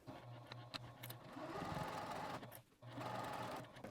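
A sewing machine back-stitches a zipper pouch in bursts, running steadily for a few seconds, halting briefly, then starting again. It is close and clear, with no talking.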